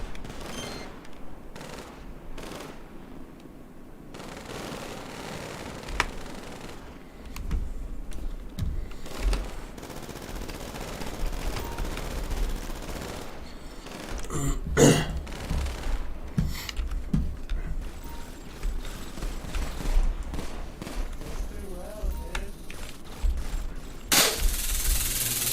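Practice gunfire fills an indoor police shooting range in a GTA roleplay game, with sharp pistol reports in scattered single shots and quick strings that repeat steadily over a constant room ambience, with occasional bursts louder than others.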